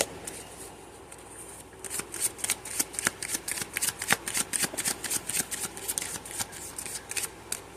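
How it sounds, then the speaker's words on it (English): Oracle cards being shuffled by hand: after a quiet start, a rapid run of crisp, papery riffling snaps repeats close up in steady bursts, with no talking. "I'm going to continue and finish shuffling to make sure there's nothing missing"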